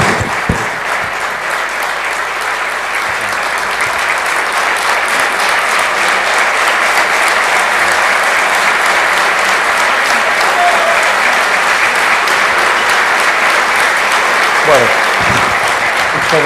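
An audience claps steadily to welcome basketball player Luis Scola to the front, a loud, dense, even wash of applause that holds without fading for the whole stretch.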